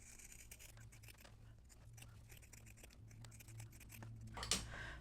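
Scissors cut through quilting fabric to trim a mug rug's edge and miter its corners, a faint sequence of close snips and scratchy slicing in a quiet room, ending in a sharper rustle.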